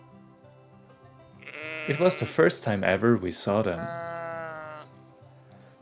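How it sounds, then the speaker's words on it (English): Black-nosed sheep bleat up close on an Alpine hiking trail in Switzerland, several wavering cries overlapping while a person talks over them. "we spotted the black-nosed sheep"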